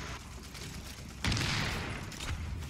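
Gunfire in the shooter game The Division, a dense burst of shots cutting in abruptly midway over steady background noise, loud and close with a lingering rumble.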